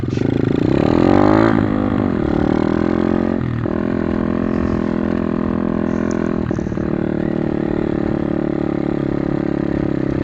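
A motorbike without a clutch, ridden on sand, revs loudly up close, its engine pitch climbing and falling in surges before settling into a steady, clattering drone.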